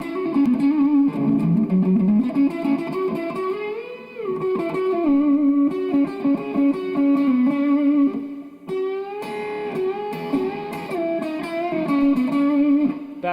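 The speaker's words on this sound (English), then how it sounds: "I'm going to turn the gain up even more, back off the volume a little bit" Heavily distorted electric guitar rings out through a Peavey Classic 30 tube amp at high gain, sustained notes and bends played alone at a loud, steady level.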